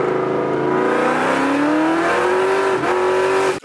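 A 2003 Mustang Cobra, the supercharged 530-horsepower Terminator, pulls hard through the gears, its engine note climbing steadily, dipping briefly at a shift, then rising again, loud and close with no talk.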